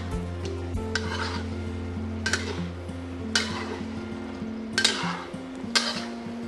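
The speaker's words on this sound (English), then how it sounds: "Now the egg slides in. And just gently push it apart, like this." An egg sizzling steadily in a pan for simple family-style tomato eggs, gently pushed apart with soft scraping and stirring strokes and a few light clinks of utensil on pan, close and continuous.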